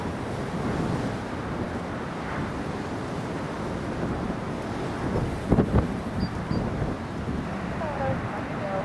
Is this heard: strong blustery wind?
yes